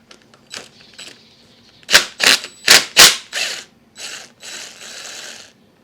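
A ratchet wrench clicks in quick bursts as a 14mm fastener is removed from a 2003 Toyota Camry seat belt buckle mount, with several sharp, close ratcheting strokes followed by lighter, fading clicks.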